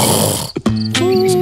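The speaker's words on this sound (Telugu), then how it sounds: "రాత్రి నుండి ఉదయం దాకా నాన్ స్టాప్ గురక" Loud, close snoring in a comedic film scene, a couple of rough, rumbling breaths separated by a short gap, ending with a higher, nasal, tonal whistle.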